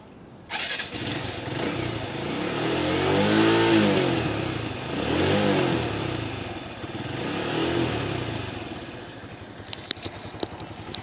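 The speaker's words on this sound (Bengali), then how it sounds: "আমি আপনাদের স্টার্ট করে বাইকটি দেখাচ্ছি।" A TVS Stryker 125 motorcycle engine starts with a sharp catch, then revs up and settles in several rising and falling swells, followed by idle and a few clicks.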